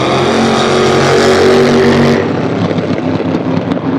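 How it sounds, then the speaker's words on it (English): Two rat rods drag race side by side at the Hot Rod Power Tour, engines roaring loud and close at full throttle before the din drops suddenly to a lower, rougher rumble. "You got two rat rods going up against each other."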